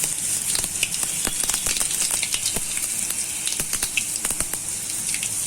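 Garlic, mustard seeds and whole cumin sizzling and frying in hot oil for a Gujarati methi bhaji dish, a steady close hiss dotted with many sharp crackles and pops, no talking.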